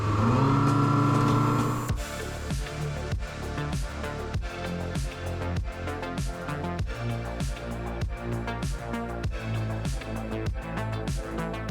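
A Selva 700 Stile motor boat with an XSR engine runs loud at speed, its steady engine roar broken by rhythmic thumping pulses as the hull hits the water.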